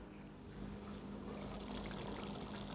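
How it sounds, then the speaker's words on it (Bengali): Steady pouring and trickling water into a pot for beef curry, continuous and fairly close, with a low rumbling hum underneath and no speech. "মাংসটা বসানোর আগে এখানে একটু পানি দিয়ে দিচ্ছি"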